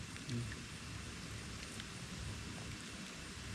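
Steady rain falling outdoors in a forest, a dense, even hiss that holds throughout at moderate loudness, with a faint voice briefly audible near the start.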